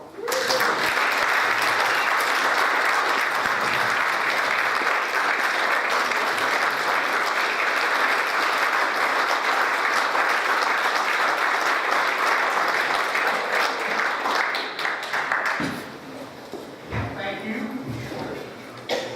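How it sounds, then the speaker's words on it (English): A large crowd applauds loudly and continuously for many seconds, the clapping thinning out slightly toward the end. "Big applause"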